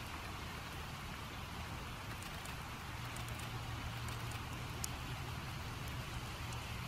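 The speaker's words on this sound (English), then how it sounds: "No, don't start to rain." Rain in the zombie survival game Project Zomboid, a steady even hiss of falling rain throughout with faint scattered drops, no talking.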